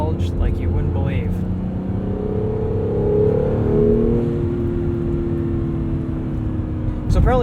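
A 2017 Acura NSX engine drones and rises in pitch as it accelerates, a loud interior hum partly piped in from the engine bay, with a voice talking over it at the start and end.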